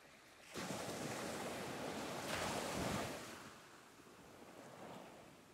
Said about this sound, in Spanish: y el sonido del mar